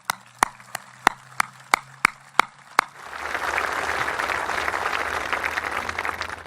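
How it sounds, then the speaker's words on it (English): At a memorial day ceremony for Vietnam veterans, an outdoor audience breaks into steady applause after several slow, isolated claps, the clapping moderately distant and continuous to the end. "I'd like to give them a round of applause"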